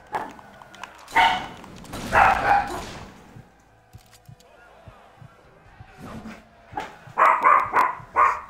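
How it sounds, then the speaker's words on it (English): A dog in the Fable III video game barks in a few sharp, scattered bursts, with whimpering and quieter rustling sounds between them, and a final cluster of rapid barks at the end. "Kill the damn dog!"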